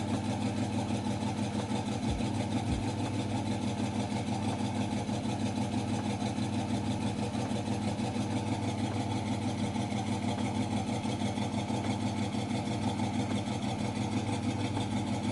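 A car engine idling steadily with a faint, regular ticking from a bad lifter on the right side running through the drone, no talking.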